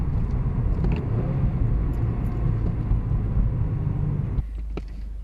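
A car drives with a loud, steady low engine rumble close up; the engine note drops off abruptly near the end as if easing off for a downshift.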